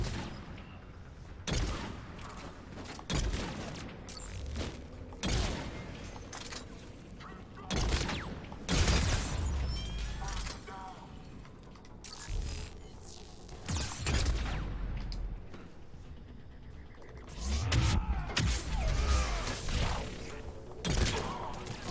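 Bursts of turret gunfire in Mass Effect 3 come in repeated loud volleys with crashes and impacts, spread across the clip and mixed with game effects.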